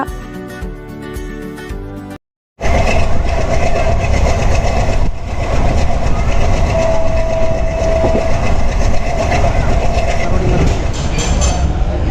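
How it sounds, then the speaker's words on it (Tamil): A train arrives at a station with a loud, continuous rumble and rolling rail noise that fill the clip after a brief pause, with faint voices mixed in. "ஷார்ப்பாக பார்த்தீங்கன்னா 4 o'clock வந்துட்டு ட்ரெயின் வந்துருச்சு"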